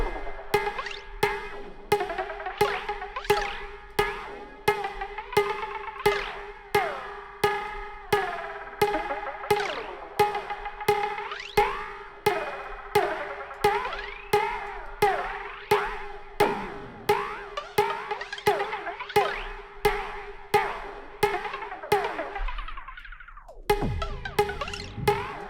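A drum and bass pattern run through delay effects, with sharp repeating hits echoing in a steady rhythm for the whole stretch, loud and alone, cutting off abruptly near the end.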